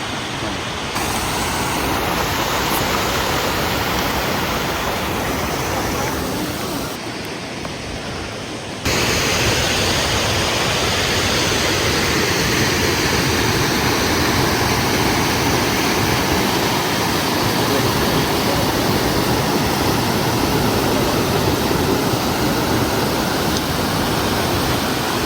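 Waterfall on a mountain river in Ordesa y Monte Perdido in the Pyrenees, a loud, steady broadband roar of rushing water that continues unbroken throughout, dipping slightly for a moment before swelling back.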